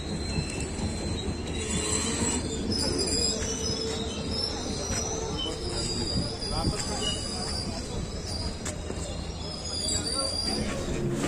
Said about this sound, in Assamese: তো গাইজ ট্ৰেইন এখন আহিল